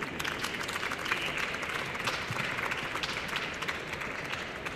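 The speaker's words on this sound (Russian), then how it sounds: "Аплодисменты," Audience applause at a competition final, a steady, even patter of many hands clapping, fairly distant and sustained throughout without voices breaking through.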